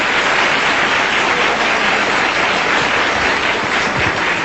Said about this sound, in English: Yeah, you can applaud for him.